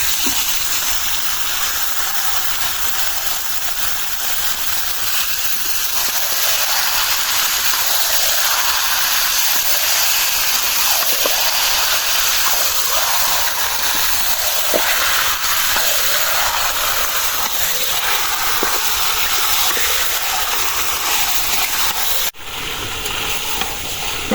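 Marinated beef hits hot oil in a kadai over onions fried brown, throwing up a loud, continuous close sizzle and hiss that holds for over twenty seconds before dipping briefly near the end.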